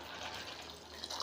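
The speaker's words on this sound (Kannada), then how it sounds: "ಇದಕ್ಕೆ ಹಾಕೊತೀನಿ ಕಾಯ್ದಿರುವಂಥ ನೀರು" Boiled water poured into a cooking pot in a village kitchen, a steady low gurgling splash running unbroken throughout at a faint level.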